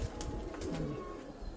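Pigeons cooing among kept birds and their young, a low soft coo rolling through the middle over steady background noise, with a couple of brief bright clicks or rustles.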